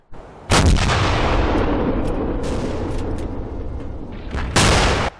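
A heavy, booming gun blast in a World War II first-person shooter video game erupts and rumbles on for several seconds, then a second sharp blast hits near the end.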